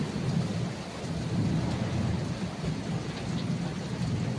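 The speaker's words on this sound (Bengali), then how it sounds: "আর বাইরে একবার দেখো কি জোরে বৃষ্টি হচ্ছে আর বিদ্যুৎ চমকাচ্ছে" A Kalbaishakhi thunderstorm in the Sundarbans: heavy rain pours steadily while low thunder rumbles on and on, loud and enveloping, with no voices.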